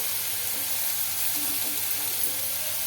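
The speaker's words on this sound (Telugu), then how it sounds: "ఇది బాగా ఒక నాలుగైదు నిమిషాలు ఫ్రై చేసుకోవాలండి" Continuous sizzling of onion paste frying in a hot pan, a steady crackling hiss with no talking.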